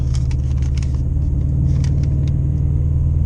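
2013 Subaru WRX engine droning hard with a deep steady rumble during a launch at a drag strip track day, tires spinning, loud and close throughout without speech.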